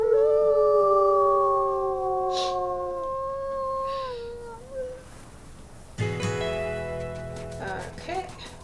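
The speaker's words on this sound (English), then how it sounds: "so let's give it a good howl" Several long, wavering wolf howls from WolfQuest Anniversary Edition ring out together, rising and fading over about five seconds, followed by brighter layered game sounds and music.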